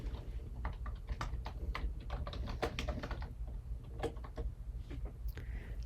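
Quick, irregular clicks of a computer keyboard as a password is typed, close and clear over a low steady hum, no talking.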